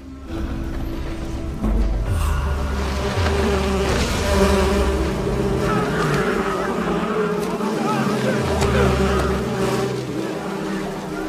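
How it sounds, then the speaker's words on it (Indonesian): Wasps from a thrown nest buzz loudly and steadily throughout, up close and swarming, layered over deep dramatic film music and rumbling. "mengambil sarang tawon menggunakan daun sebelum akhirnya ia lempar ke hadapan Sherewolf dan anak buahnya"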